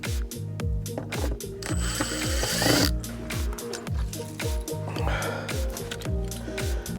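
Makita DFR551Z 18V brushless auto feed screwdriver driving stainless steel screws: a close, loud motor whir ramping repeatedly in quick regular cycles, each drive ending in a ratcheting clatter as the strip feeds the next screw.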